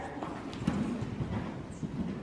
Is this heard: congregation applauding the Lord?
no